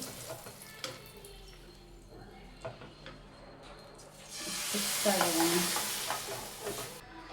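Tempering for Andhra palak pappu sizzles in hot oil in a pan and is stirred, crackling softly at first and then building into a louder, steady hiss toward the end.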